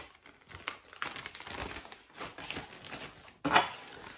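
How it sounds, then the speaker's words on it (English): A large plastic return envelope from a clothing subscription box is handled, giving continuous crinkling and rustling that ends in a sharper, louder crinkle near the finish, with no one speaking. "it does come with a large return envelope"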